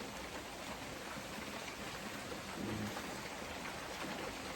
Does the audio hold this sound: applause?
no